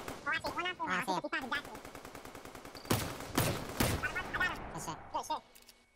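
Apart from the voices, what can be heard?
gunfire in the video game Fortnite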